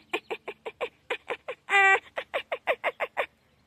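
A human voice imitates a playful fox giggle: a rapid series of short, breathy chirping yelps with one longer, higher squeal in the middle, close up and alone.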